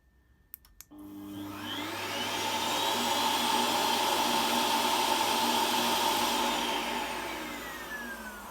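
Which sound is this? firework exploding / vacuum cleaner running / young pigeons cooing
vacuum cleaner running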